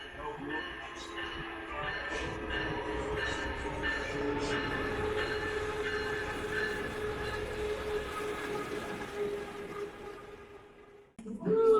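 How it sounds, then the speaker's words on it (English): An Amtrak passenger train rumbles past at close range, a steady roar of wheels and rail noise with faint rhythmic clicks, then it cuts off abruptly near the end. "That is my train."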